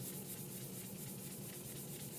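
Fine grit sandpaper scuffs the surface of a stainless steel tumbler in a steady, faint, rhythmic rubbing that continues without pause.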